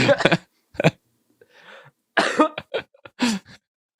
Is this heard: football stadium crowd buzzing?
no